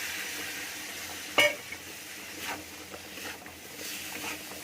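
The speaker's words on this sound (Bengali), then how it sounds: "এবার এই মিক্সারটা আমরা এই তিল ভাজা দিয়ে দেবো।" Spice mixture of ground sesame paste, chilli powder and cumin powder going into sesame seeds frying in a pan, giving a soft hiss with one sharp clatter and a few faint stirring scrapes, fairly quiet.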